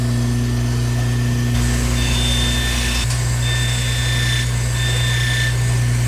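Hand-held grinder sanding the edge of a resin eyeglass lens, a steady motor whine with tones that shift as the abrasive bites in short passes.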